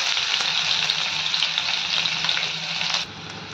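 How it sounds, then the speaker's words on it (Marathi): Finely chopped onion sizzles in hot ghee with cumin and shahi jeera, a loud steady hiss that eases slightly just before the end. "बारीक चिरलेला कांदा घालून घेऊयात।"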